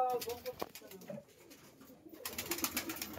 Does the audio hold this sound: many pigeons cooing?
yes